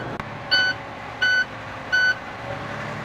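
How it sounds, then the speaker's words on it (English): A truck's low air pressure warning buzzer sounds three evenly spaced short electronic beeps inside the cab, clear and close over a low engine rumble. "I'm going to help the air pressure build just until I don't hear the buzzer anymore."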